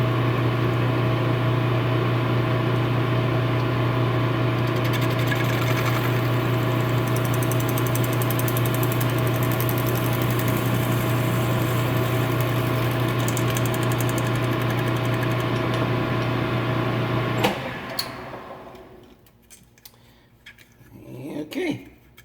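A lathe facing off a part made of ABS and epoxy, a loud steady hum with a strong low tone for most of the clip, then the machine winds down into quieter clicks and handling noise.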